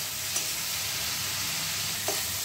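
Onion, garlic and ginger paste sautéing in a pan for fish rezala, a steady close sizzle with two brief sharp clicks of stirring.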